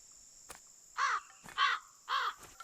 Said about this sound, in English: Weirdest sounding bird wings ever.